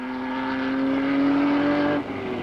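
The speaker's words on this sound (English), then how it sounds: "The Ferrari is climbing." A 1953 Ferrari race car in the Mille Miglia climbs under load, its engine a loud, steady, close roar with a rising harmonic whine that briefly shifts pitch near the end.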